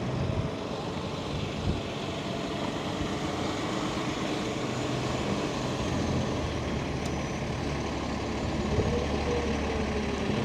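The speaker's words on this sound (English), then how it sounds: "Making a left turn here, following this bus, the B31." A B31 city bus drives through Brooklyn traffic on a summer day, its engine a steady, heavy drone with road roar close by, heard from a bicycle following behind it. No one speaks.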